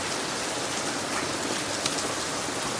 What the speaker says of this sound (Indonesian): Siang bolong hujan-hujan nih guys.